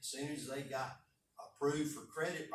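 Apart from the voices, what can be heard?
None of the usual background noises is heard.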